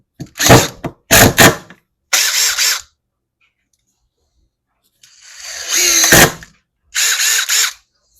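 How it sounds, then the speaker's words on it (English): A Makita impact driver runs in five sharp, loud bursts of rapid hammering, each lasting about a second, separated by silent gaps, close to the listener and with no other sound between bursts. "Let's compare that to the Makita."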